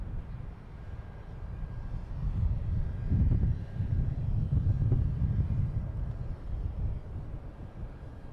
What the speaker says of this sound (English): And American Airlines coming in from